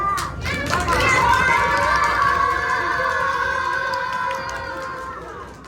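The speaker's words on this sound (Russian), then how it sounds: "А давайте вместе потопаем, похлопаем и закричим" A group of children stomp, clap and shout together in a loud, sustained collective yell, with a burst of footfalls and claps under the rising shout that slowly fades.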